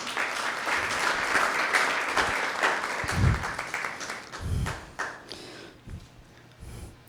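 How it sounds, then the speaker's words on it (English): Audience applause at a literature panel, a dense steady clatter of many hands clapping at once, with a few louder thumps near the end as it tapers. "that certainly calls for a round of applause"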